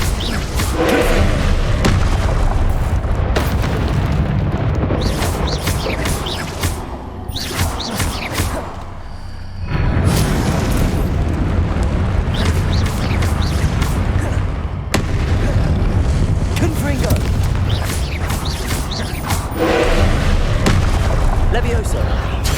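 Repeated booming blasts of the Confringo fire spell in Hogwarts Legacy gameplay, loud and heavy, rising over a thick bed of game music and ambience in several bursts.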